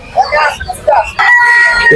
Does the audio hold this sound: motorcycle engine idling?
no